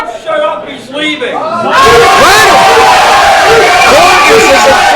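A wrestling crowd at an indie show roars and chants loudly after a quieter start, with sustained shouting and whoops filling the arena; a commentator talks beneath the noise.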